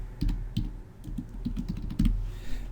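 Quiet, close computer keyboard typing: irregular bursts of light key clicks over about three seconds, with a few louder strokes and no voice.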